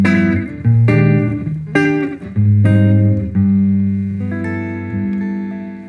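Guitar playing a 12-bar blues turnaround, a loud, close sequence of plucked notes and chords stepping down in rhythm and settling on a final ringing chord, with no talking.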